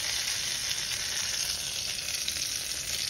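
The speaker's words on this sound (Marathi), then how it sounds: "आणि अशा पद्धतीने आपण चटणीवर हा तडका ओतायचा आहे।" Hot tempering (tadka) poured over chutney sizzles with a steady, bright crackling hiss that holds evenly for a few seconds, close and moderately quiet, with no voices.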